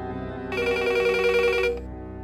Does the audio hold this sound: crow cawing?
no